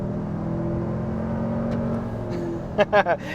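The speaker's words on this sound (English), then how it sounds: "you do have a great sounding engine." A 2022 Toyota Tundra 1794 Edition's twin-turbo V6 hums steadily from inside the cabin while accelerating through a 10-speed transmission in eco mode, a smooth moderate drone, with brief speech at the end.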